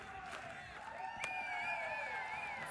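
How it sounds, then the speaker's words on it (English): A softball crowd at Tennessee's Rocky Top stands on its feet cheering after a home run, a steady roar of shouts and whoops with whistles rising above it, sustained and loud with a commentator talking over it. "And this crowd on their feet, you can hear them now"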